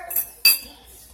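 A metal fork clinks against dishes while being washed, two or three quick, close, bright clinks with a faint rinse behind them.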